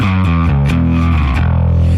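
An electric bass runs through an SVT-style amp simulator in an HX Stomp with distortion added, producing a thick, loud, gritty tone as a short run of sustained notes steps downward.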